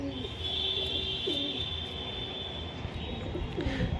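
Domestic pigeons kept as a hobby coo in soft repeated low calls as they are released, under a steady background hum and a faint high whine.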